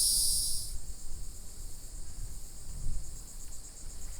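Loud, high-pitched cicada buzzing fills a maritime forest on Cumberland Island, constant and piercing, with a sharp drop in intensity early on, then a steady droning chorus.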